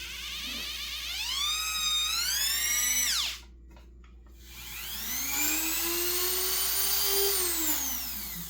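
A small porting grinder motor whines up and winds down, then after a brief pause spins up again with a steady high-pitched hum.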